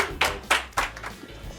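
A small crew gives a few sharp, close hand claps in a steady rhythm, about three distinct strikes, before they trail off into softer, scattered clapping.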